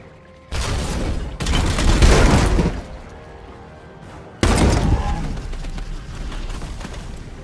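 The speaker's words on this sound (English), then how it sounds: "that'll be the perfect amount to let him get the kill with the support fire" Support fire in the video game Chaos Gate: heavy booming volleys of gunfire and blasts, a long loud burst, a pause, then another sustained barrage with rumbling decay.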